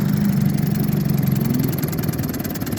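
Johnson TN-26 5hp outboard motor from around 1951 or 1952 idling slightly rough, a steady, close, low putter with fast even pulses that continues throughout.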